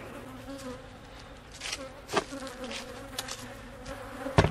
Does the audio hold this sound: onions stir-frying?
no